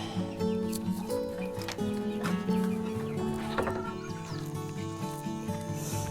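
Soft clucks and low murmuring calls from a brooding hen sitting on eggs, over a dense, steady bed of music, continuous throughout.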